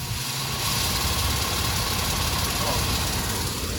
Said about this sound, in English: The wheel's hitting the metal piece?